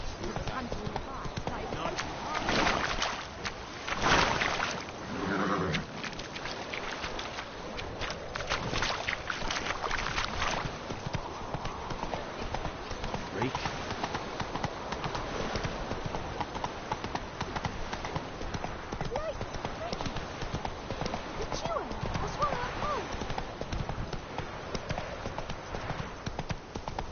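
Roach the horse galloping in Witcher 3, a fast, rhythmic run of hoofbeats that continues throughout, mixed with game sound and spoken voices over it.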